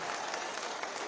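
Dense, steady applause from an audience at an honour ceremony, a broad wash of many hands clapping at once, loud and continuous throughout with no speech over it.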